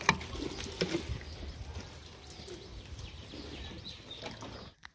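Water splashing and trickling while vegetables such as yard-long beans are rinsed, a steady close wet wash with a few brief sharper splashes and no speech.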